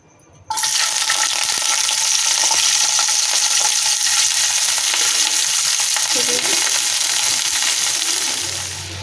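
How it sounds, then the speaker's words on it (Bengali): Onion, capsicum, tomato and paneer hitting hot oil, bursting into a loud, dense, continuous sizzle that holds steady and eases slightly at the end, no talking. "পনির, পেঁয়াজ, ক্যাপসিকাম, টমেটো এগুলো সব ভেজে নেব।"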